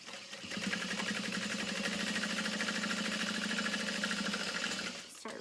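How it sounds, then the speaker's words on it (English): A sewing machine stitches a beauty bag seam beside Peltex stabilizer, one steady run of rapid mechanical whirring for about four and a half seconds, close and moderately quiet, starting and stopping cleanly. "you just want to sew right next to it using a 1/2 inch seam allowance"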